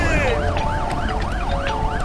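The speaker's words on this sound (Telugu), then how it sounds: "అంబులెన్స్ వస్తోంది." An ambulance siren wails as the ambulance approaches after a violent attack in a thriller film, a loud continuous rising-and-falling tone cycling steadily about every half second over a low rumble.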